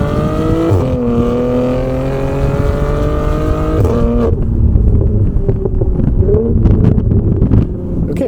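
Upgraded Porsche Macan Turbo with a 2.9L V6 and a modified exhaust, making about 580 horsepower, heard from inside while driving, engine tone rising through gears with loud steady drone and road and wind noise.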